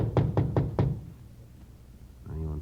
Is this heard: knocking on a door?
yes